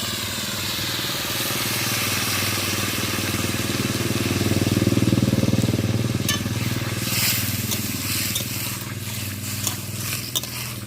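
Water poured into a hot pan of potatoes and vegetables braising for a village-style poi shaak chorchori, a steady loud hiss and bubbling rumble that swells in the middle and continues throughout, with a few faint clinks near the end.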